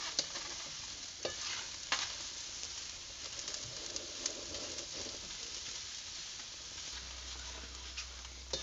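Raw green tomatoes roast and get stirred in a pan over a wood-fired stove, a steady soft sizzle broken by repeated scraping stirs, close and fairly quiet, with no talking.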